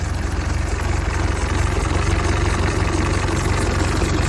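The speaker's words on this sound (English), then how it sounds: "Settles into a really nice little idle." The engine of a 99-year-old Austin Seven idles steadily, a loud, even low-pitched chugging pulse with mechanical rattle, heard close up and continuous with no speech.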